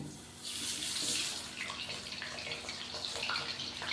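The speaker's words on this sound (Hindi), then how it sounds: "तो माशाल्लाह से ऑयल हमारा हल्का सा गर्म हो चुका है। अभी हम इसके अंदर आलू डालेंगे" Potatoes and a teaspoon of salt go into lightly heated oil for an aloo karahi, setting off a loud, bright hiss that surges after a brief quiet start and then holds steady, close by, with no voices.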